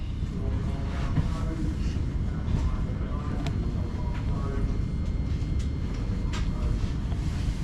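A London Gatwick train rumbles along its rails, a constant low roar with faint rhythmic clacks and rattles from inside a carriage.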